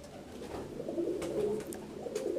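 Shield-marked fantail pigeon, a fancy breed with a crest and coloured tail markings, cooing in a low, throaty, continuous rolling burble close by, with a few faint higher chirps in the background.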